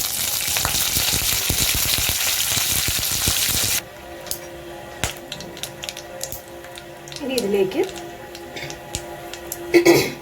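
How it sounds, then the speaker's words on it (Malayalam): Curry leaves added to hot oil with popped mustard seeds and dried red chilli for a spicy masala, a loud broadband sizzle at first that drops abruptly to a quieter crackle with scattered pops and stirring. "ഇവിടെ ഇപ്പം കടുക് പൊട്ടിക്കഴിഞ്ഞപ്പോൾ വറ്റൽമുളക് ചേർത്തിട്ടുണ്ട്. ഇനി ഇതിലേക്ക് കറിവേപ്പില."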